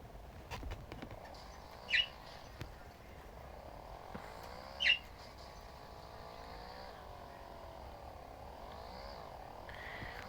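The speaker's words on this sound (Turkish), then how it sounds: "kuş sesi de var" Birdsong drifts in from a distance, with a couple of sharper chirps standing out over a steady low rumble of outdoor background noise.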